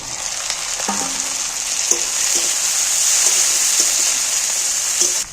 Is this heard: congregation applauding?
no